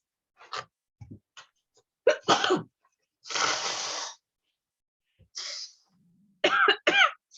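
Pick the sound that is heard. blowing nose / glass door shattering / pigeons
blowing nose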